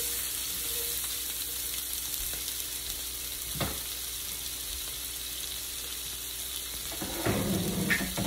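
Sirloin meat patties frying in oil in a pan for gravy, a continuous close sizzle with occasional scraping stirs and a louder burst near the end.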